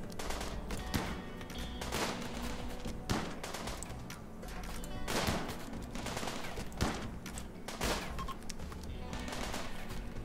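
Gunfire at turrets in the video game Rimworld: sustained rattling bursts of automatic fire with repeated sharper shots every second or two, dense and continuous throughout, with no talking.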